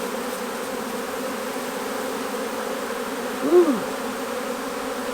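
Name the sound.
honey bees buzzing around queen cells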